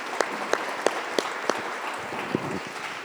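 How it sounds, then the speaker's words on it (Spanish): A handful of clearly spaced hand claps at a seminar ceremony on women's incarceration and drug law, about five evenly timed claps followed by a softer one, close and distinct over a quiet room. "un fuerte reconocimiento y un fuerte aplauso"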